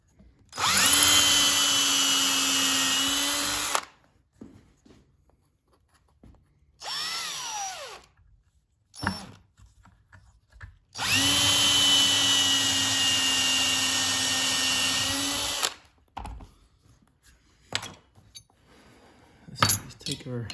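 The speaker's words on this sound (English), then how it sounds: "So I got my drill bit and my" A power drill with a bit runs in two long sustained whirring bursts, a short spin-up between them, close and loud, with clinks and handling noises in the quieter gaps.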